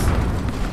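A rocket blast in a multiplayer shooter game, a short loud booming burst with a rumbling low-end tail.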